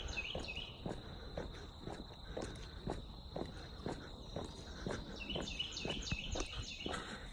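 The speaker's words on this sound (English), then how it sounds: "Listen to those birds. I love those birds." Outdoor ambience with high chirping and trilling near the top of the range, steady insect-like buzz and scattered bird calls, along with regular crunching footsteps as someone walks along.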